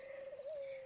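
A dove coos in one smooth, sustained call with a slight rise midway, close and clear over quiet background.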